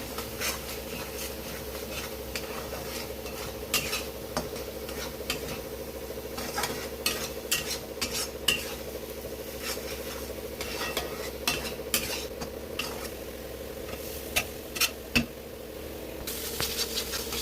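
Masala spices cooking in a pan with a little water, stirred over and over, giving a steady low sizzle with repeated light scrapes and taps of a spoon, close and continuous.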